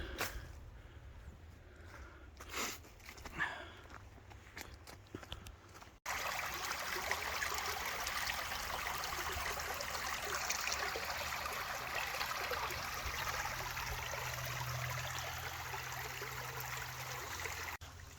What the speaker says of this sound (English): It's lovely hearing water, isn't it, when you're out and about.